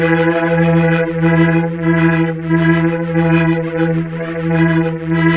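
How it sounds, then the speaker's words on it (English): A sustained guitar chord through a Guitar Rig 5 Rotator Leslie cabinet simulator swirls and wobbles with a rhythmic pulsing shimmer, loud and steady throughout. "we have this thing that they call Rotator, which is actually it's a Leslie cabinet simulator"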